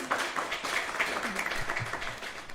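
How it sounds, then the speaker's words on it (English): Applause from a panel discussion audience, a short burst of moderate clapping heard at some distance in a hall. "Another round of applause for Chifundo."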